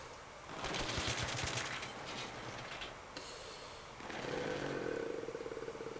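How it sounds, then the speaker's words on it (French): Bursts of rapid automatic AK-47 fire from the Battlefield 3 video game, two main volleys with a pause between, moderately loud over faint game ambience. "Voilà, AK-47. J'aime cette arme."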